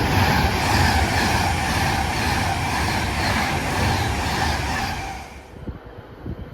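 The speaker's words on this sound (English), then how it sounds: "here comes an Avanti West Coast service from London Euston to Preston on Test" An Avanti West Coast passenger train running from London Euston to Preston on test roars past at Bletchley, loud and close with rumbling wheels, then fades abruptly into quiet platform ambience.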